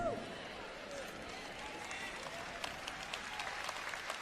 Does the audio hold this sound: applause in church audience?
yes